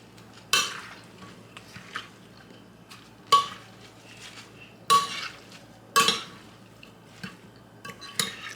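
Cucumber and avocado salad gets tossed in a bowl, a handful of spaced clanks and scrapes of utensils against the dish, close and fairly loud with quiet pauses between.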